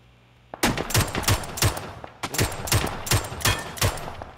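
Automatic gunfire in the video game PUBG: two long bursts of sharp, closely spaced shots in a steady rapid rhythm, loud and close, separated by a brief pause.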